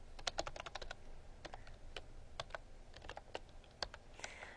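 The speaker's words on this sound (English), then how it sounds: "Doesn't help that my typing is horrendous today." Quick, uneven keystrokes tap on a computer keyboard at close range, in irregular bursts with short pauses and no talking.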